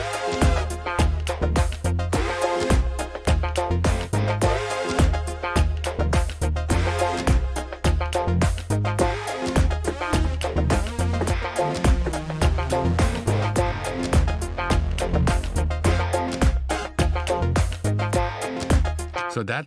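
A basic synthesizer preset with delay plays within a dense electronic groove, with rhythmic repeating notes over steady beats and bass, continuous and full throughout.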